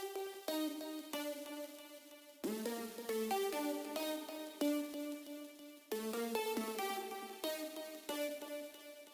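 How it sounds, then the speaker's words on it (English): A Serum synth pluck preset named Pink, from a free Serum bank, used in an alternative trap beat; bright plucked notes play a repeating melodic pattern, close and clear, with no voices. "this pluck is called Pink, and it sounds like this."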